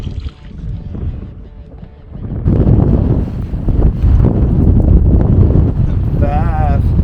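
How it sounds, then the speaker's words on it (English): Strong wind blows outdoors on a fishing boat near an inlet, buffeting the microphone with loud, rough gusts that swell partway through, while a person speaks over it. "the wind's just a blowing"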